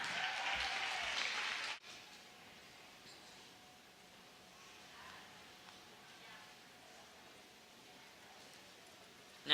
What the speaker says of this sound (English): Let's cheer on Zemma and Mike to the finish line.